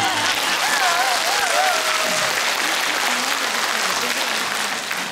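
Steady, loud applause fills a concert hall during a big variety show, continuing throughout with a voice speaking briefly over the clapping early on.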